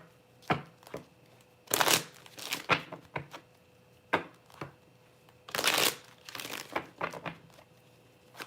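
A deck of cards is shuffled close up during a card reading, in several quick riffling bursts separated by short pauses and lighter taps as the cards are squared.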